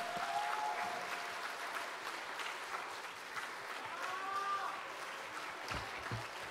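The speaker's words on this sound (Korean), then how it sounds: "우리 원로 목사님 나오셨는데 이미 앞에 서실 때까지 힘차게 큰 목소리로 박수로 환영합니다" A church congregation applauds to welcome the senior pastor at a Friday evening service, steady, fairly faint clapping from a large room, with a couple of brief sung or voiced tones rising over it.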